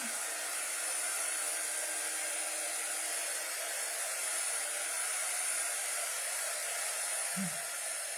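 A heat tool running continuously to dry a freshly embellished craft project, a steady, close, even whoosh that holds unbroken and clicks off briefly near the end.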